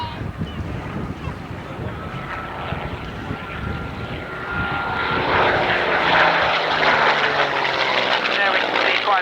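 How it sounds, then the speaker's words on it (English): Hawker Hurricane fighter flying past at an RAF Alconbury airshow, a piston-engine drone growing louder and rougher as it approaches and sweeps by, under continuous commentary. "A thicker wing, and once again. The Hawker Hurricane."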